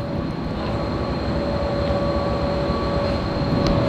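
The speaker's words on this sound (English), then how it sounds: "So as you can see, our train has arrived." Passenger train at a station platform in Pakistan, a steady loud rumble of engine and railcars with a sustained tonal hum running through the whole stretch, no talking.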